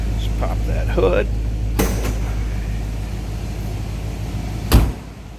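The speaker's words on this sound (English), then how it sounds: "How nicely that door closes." The door of a 1957 Ford Fairlane 500 Skyliner retractable hardtop shuts with a single firm, solid thunk near the end, after a few faint clicks and handling noises over a low steady hum.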